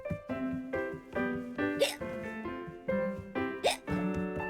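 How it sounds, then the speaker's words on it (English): A cartoon character hiccups in a steady, repeated rhythm, with voiced, bouncy hic sounds set against playful music in a children's animated show. "I know just the thing to cure your hiccups."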